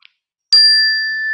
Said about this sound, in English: One is Tibetan singing bells, and the other is of ocean waves.